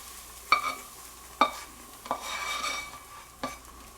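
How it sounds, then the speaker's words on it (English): Lobster, asparagus and onion are spread over an omelet cooking in a hot pan: a low sizzle broken by four distinct scraping, tapping strokes of a utensil, close and fairly quiet. "So now I'm just going to put the lobster, asparagus, and onion on this side"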